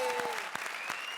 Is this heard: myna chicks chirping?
no